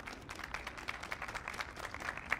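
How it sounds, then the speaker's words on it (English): Quiet, distant applause from an audience at a commemoration ceremony honoring the Tuskegee Airmen, a soft continuous patter of many hands for young students from Howard University. "give them a round of applause, the young kids"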